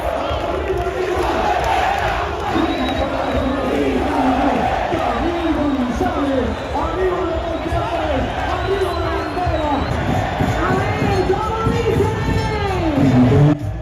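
A soccer stadium crowd in Colombia roars and chants about half an hour before kickoff. Loud massed voices rise and fall in rhythmic waves, with whoops and yells layered over a constant dense din.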